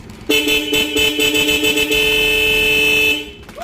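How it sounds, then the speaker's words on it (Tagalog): A car horn blares in one continuous, loud honk lasting about three seconds, then cuts off. "Busina."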